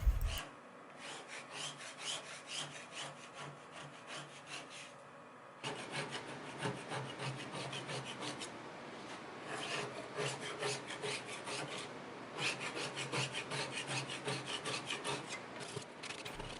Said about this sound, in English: My stripper softened the top coat, and the rest of it I was able to scrape.